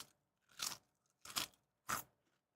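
A whole crunchy snack chip gets bitten and chewed up close, three loud separate crunches spaced evenly with quiet gaps between and no talking.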